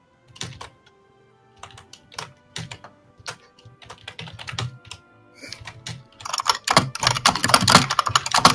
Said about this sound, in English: Boy, that keyboard is loud.